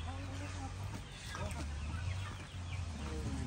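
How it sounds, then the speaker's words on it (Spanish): Several chickens on a farm cluck and chatter softly over a steady low hum, with faint background voices. "acá están las gallinas esperando ya por su café"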